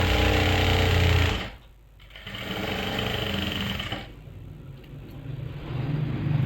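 A sewing machine stitches a plazo panel in loud, rapid bursts, stopping briefly twice between runs of steady mechanical chatter.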